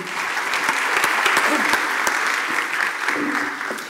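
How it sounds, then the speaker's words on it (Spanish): Audience applause for a guest at a Mercado Libre talk on the democratization of money, a loud dense burst of many hands with distinct sharp claps, steady throughout and nearby. "Fuerte aplauso para Emiliano también"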